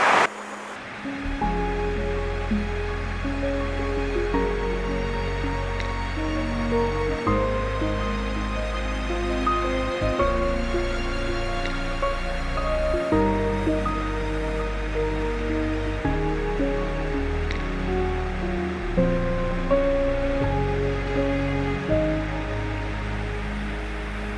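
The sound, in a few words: water flowing over a river weir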